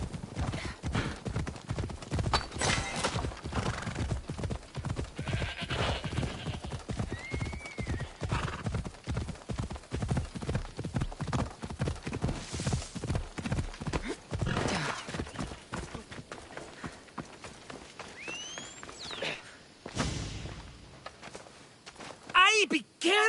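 Horse hooves in the Assassin's Creed Odyssey video game clop in a fast, regular rhythm, with a couple of whinnies and neighs mixed in, while characters speak over the galloping.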